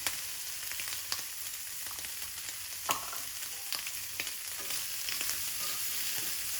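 Ham and tomatoes sizzle in a frying pan with a steady, fairly quiet crackle, broken by a few sharp pops and spatters.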